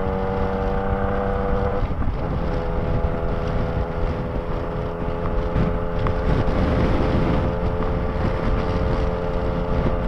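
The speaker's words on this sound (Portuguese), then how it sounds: "Tá ventando muito também." Wind buffets a microphone over a steady Yamaha Tracer 900 GT motorcycle engine drone in cold weather at Vitória da Conquista, Bahia, gusting roughly and continuously with no one speaking.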